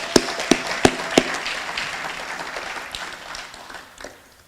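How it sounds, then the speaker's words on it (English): Applause at a Walk of Honor ceremony in Longview, Texas: a few loud, sharp claps up close open a thinner patter of crowd clapping that fades away. "So let's give them another round of applause."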